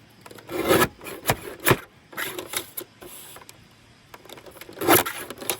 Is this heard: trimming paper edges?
yes